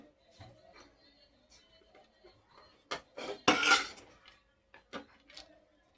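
A spoon clinks and scrapes against a pot as rice is added back into a homemade dum biryani over curry masala, with a loud clattering burst in the middle, quieter taps around it and a faint voice.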